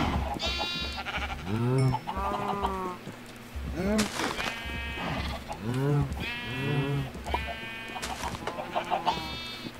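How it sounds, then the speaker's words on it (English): Repeated sheep bleats from a blocky sandbox-style video game farm, several cartoonish calls in bursts across the clip, mid-loud, with other farm animal sounds mixed in. "Where's all my sheep? Where my sheepies at?"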